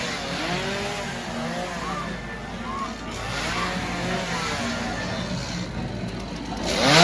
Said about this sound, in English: There's the chainsaw.